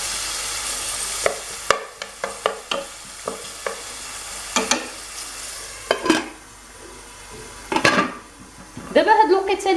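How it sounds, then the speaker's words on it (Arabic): Peppers fry in a pan with a soft sizzle, punctuated by a series of sharp scraping and clinking stirs of a utensil against the pan. "دابا هاد الوقيته اللي كتقلى الفلفله"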